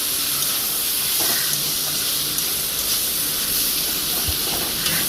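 Banana flower sizzling and hissing steadily in a hot pan with ginger and cumin paste, a constant bright frying hiss with faint scrapes of stirring throughout.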